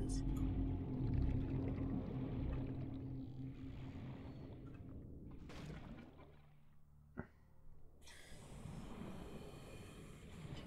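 A huge, slow, harmless leviathan in Subnautica's ocean gives long, low, droning calls that swell and fade across the whole stretch, distant and resonant, with no voices over them.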